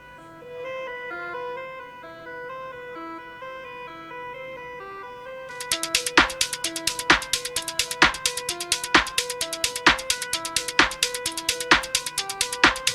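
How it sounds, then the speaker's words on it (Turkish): A short electronic track built with a PreSonus ATOM pad controller in FL Studio opens with a bright melodic synth line, then sharp, evenly spaced drum hits join in and drive a steady beat. "Şimdi Atom cihazımızı kullanarak FL Studio'da kısa bir müzik yapacağım."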